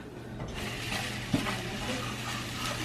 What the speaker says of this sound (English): cook up the ground beef. We're just gonna brown it